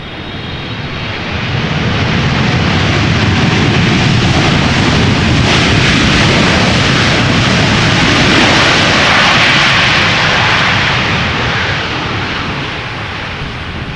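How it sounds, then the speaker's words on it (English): A jet airliner lands on Schiphol's Polderbaan runway in gusty crosswind, a loud, steady broadband engine roar that swells and holds for most of the stretch before easing slightly at the end, with no voices. "Not the loudest of landings, but definitely not the quietest either"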